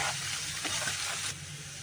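Carrots for pickle sizzle in a hot pan as they are briefly cooked and stirred, a loud continuous close frying hiss that drops off sharply near the end.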